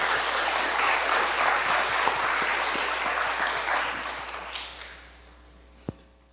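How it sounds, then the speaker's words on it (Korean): A crowd at a university family worship service claps steadily and loudly for several seconds, then the applause tapers off and fades, ending with a single sharp tap. "여러분 이 아름다운 가정 큰 박수로 격려해 주시기 바랍니다"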